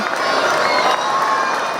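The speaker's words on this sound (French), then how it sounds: "L'occasion pour la famille princière d'apparaître aux fenêtres du palais sous les applaudissements de la foule." A large crowd outside the Monaco palace greeting the princely family at the windows, a loud, dense, continuous wash of applause and cheering with no pauses.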